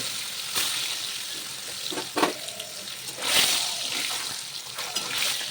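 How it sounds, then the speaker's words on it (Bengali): Eggs frying in hot oil for a Bengali egg curry, crackling and spattering close up with several louder pops and splashes, a voice briefly audible in the background. "ডিমগুলো লাল লাল করে ভেজে নেব"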